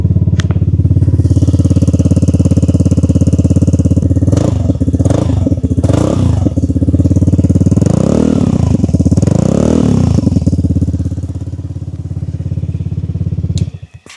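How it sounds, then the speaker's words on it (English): A Vespa Primavera scooter fitted with an Akrapovic performance exhaust idles loud and close with a deep, bassy drone, its pitch swelling through several throttle blips before settling and cutting off at the end. "it sounds pretty good. It's like a super deep bass, which I did not think you could get out of a scooter like this"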